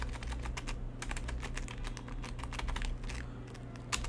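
Typing on a computer keyboard while marking an IELTS Writing Task 2 essay: a steady, rapid run of close, crisp keystrokes with no talk.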